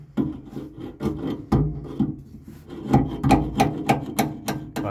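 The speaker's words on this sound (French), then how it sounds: "je vais essayer de taper un petit peu pour le relever avec mon marteau" A hammer taps repeatedly on a seized part in a camper van to free it, a rapid series of sharp, close metallic-wooden knocks with slight scraping between strikes, no voices.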